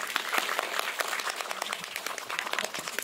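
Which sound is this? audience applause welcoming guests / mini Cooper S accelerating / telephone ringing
audience applause welcoming guests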